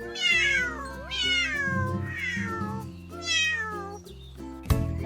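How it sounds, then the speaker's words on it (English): Three drawn-out cat meows, each rising then falling in pitch, close and clear, followed by a sharp click. "The cat says"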